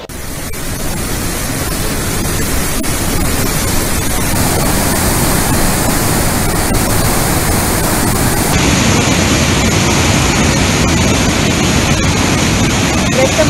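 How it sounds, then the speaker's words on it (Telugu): Floodwater pours through six raised gates at the Jurala dam project, a loud, steady, broadband roar of rushing water that continues without a break. "ప్రస్తుతం ప్రాజెక్టు 6 గేట్లు ఎత్తి దిగువకు నీటిని విడుదల చేస్తున్న దృశ్యాలు మనం చూస్తున్నాం"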